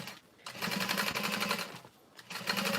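A sewing machine topstitches through the seam allowance on the middle panel of a Divina tote bag, running in two close, even bursts of fast needle clatter with a brief lull between them.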